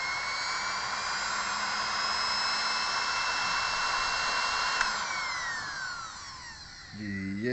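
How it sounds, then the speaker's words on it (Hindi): A repaired sewing machine motor runs with a steady, loud, high whine and hum throughout, its pitch sliding down near the end as it slows, with a brief click partway through. "अब देखिए मोटर की आवाज़ भी आपको पता चलती होगी"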